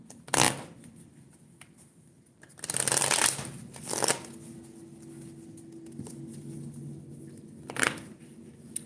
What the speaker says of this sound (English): let me shuffle right quick